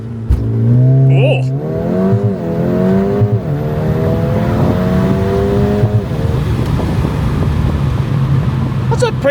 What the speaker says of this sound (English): That's a pretty aggressive launch.